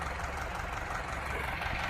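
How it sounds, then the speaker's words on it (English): Garden tractor engine running steadily while flattening out a garden plot, a continuous loud rumbling drone with no pauses. "I'm going to go with the tractor,"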